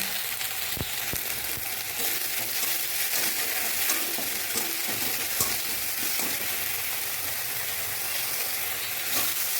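Onion frying with garlic paste, ginger-chilli paste and salt in a pan, a continuous close sizzle broken by scattered clicks and scrapes of stirring, with no talking.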